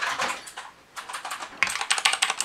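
Fast typing on a blue-switch mechanical keyboard, heard up close as loud, clicky keystrokes in uneven bursts with a short pause partway through.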